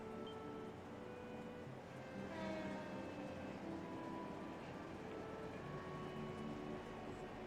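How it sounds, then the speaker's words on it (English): A train passes at night in the video game Trails from Zero, its steady rumble and a sustained horn-like tone carrying through the scene without speech. "Is that the last train bound for Calvert?"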